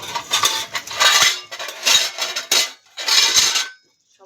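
Metal clatter and clinks of a pot lid being set on a cooking pot of paneer, several loud bursts close by with short pauses between.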